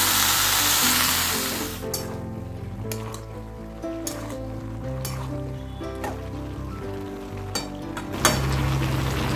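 Mixed vegetables sizzle and fry in a pan in a home kitchen, a loud hiss at first that settles into softer crackling, with occasional clinks and stirring knocks and no talking.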